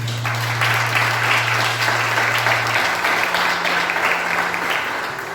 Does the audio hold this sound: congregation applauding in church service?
yes